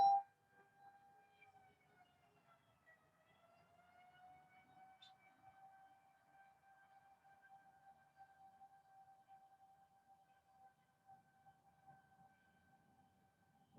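A fire truck siren sounds a long, steady wailing tone that holds its pitch with a slight dip and rise, fairly faint and at a distance, running alone for the whole stretch.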